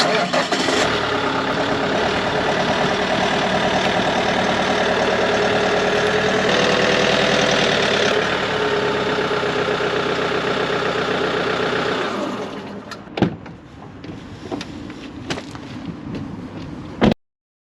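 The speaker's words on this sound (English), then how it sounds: "let's get this van up on the ramps" A van's engine runs steadily and loudly while being driven up onto ramps, then cuts off near the end, leaving brief knocks and clatter in a quieter space.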